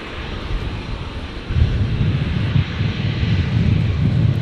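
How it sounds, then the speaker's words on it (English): Boeing 767 airliner landing at Brisbane airport, a steady broad engine roar and rushing wind that swells louder about a third of the way in and holds continuous without any voices. "767 landing now"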